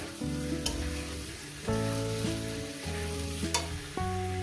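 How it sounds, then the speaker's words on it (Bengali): Paneer with coriander leaves sautéing in a pan for paneer posto, with a continuous sizzle and several sharp scraping strokes of a spatula against the pan, close up and without speech. "এক মিনিট একটু কষিয়ে নেবো এক মিনিট পনিরটার সঙ্গে"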